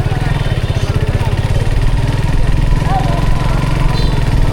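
Heavy traffic on a busy highway between Bagat and Kamarkhali bridge, with cars and motorcycles passing near the market crowd; a loud, continuous engine drone with a throbbing rhythm runs the whole way through.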